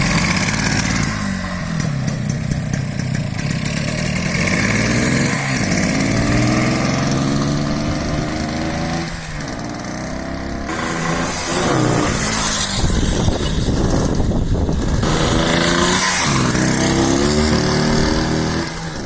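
A small Romet Pony moped fitted with a WSK 175 engine runs loudly and close, buzzing steadily with repeated revs rising and falling throughout.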